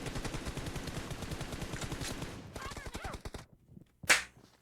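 Rapid automatic gunfire in PUBG Mobile crackles in a dense, loud burst for a few seconds, then gives way to a few scattered shots and a final sharp report.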